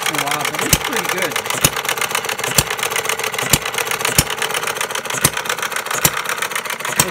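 A 1/3-scale gas-powered Breisch Associated Hired Man hit-and-miss engine runs up close, firing sharp regular bangs about once every second amid continuous mechanical clatter, while someone talks over it.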